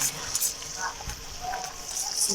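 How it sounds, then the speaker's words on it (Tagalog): Garlic and onion sauté together in a hot pan with a soft, continuous sizzle and occasional stirring, close up, while someone talks over the cooking. "Lagay natin ng sabay ang bawang at sibuyas. At ating gigisa at halu-haluin"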